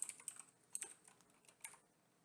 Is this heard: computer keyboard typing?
yes